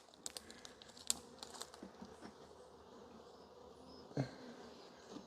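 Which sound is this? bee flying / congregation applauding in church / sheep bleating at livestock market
bee flying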